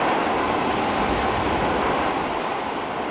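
A goods train in Transport Fever 2 runs near top speed, about 80–86 mph, on a UK line. It makes a steady, loud, continuous rumble with no break and no talk.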